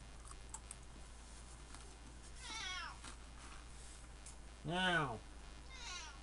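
A cat meows three times at moderate distance, each call a drawn-out rising-and-falling wail, over a steady low hum and faint background clatter.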